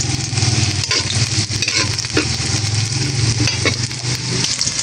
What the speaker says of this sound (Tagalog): Dito naman po ay ginigisa ko na rin po itong ating bawang.